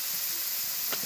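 Prawns dropped into hot oil for chingudi ghanta give a steady, close hiss of sizzling that holds at an even level for a brief moment.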